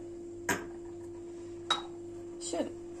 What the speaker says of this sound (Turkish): Çay kaşığımızın ucuyla da tuz ekleyip karıştırıyorum.